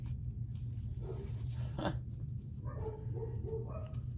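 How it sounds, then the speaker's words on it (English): Faint dog barks and yips in the distance over a steady low hum, a few scattered woofs spread across the stretch. "the dogs are barking"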